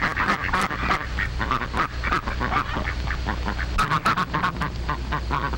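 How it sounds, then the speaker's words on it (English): A flock of farm ducks quacks busily and continuously, many overlapping loud calls close by with a low rumble beneath. "Ducks."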